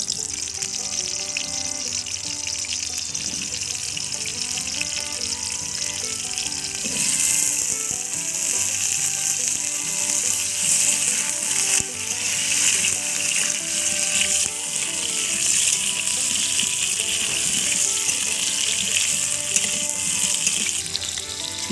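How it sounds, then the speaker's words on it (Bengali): Potatoes frying in white oil in a wok, a steady bright sizzle with clattering, ratchet-like scraping throughout, growing louder partway through and continuing without speech. "সাদা তেল দিয়ে আলুটা ভেজে নেব।"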